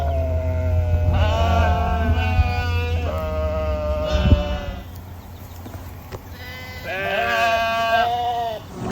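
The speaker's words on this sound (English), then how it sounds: "Just feeding the goats. They're very hungry." Hungry goats at a farm near Stowe, Vermont bleat loudly at feeding time, several wavering calls in bursts with short pauses and steady background noise.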